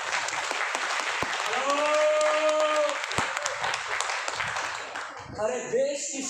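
Steady applause from a live audience at a Hindi comedy show, dense clapping throughout that thins toward the end, with a voice speaking over it partway through.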